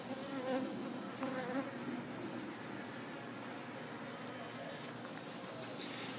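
Swarm of honey bees inside a barbecue grill, a dense continuous buzzing hum heard up close, steady throughout with slight swells in loudness.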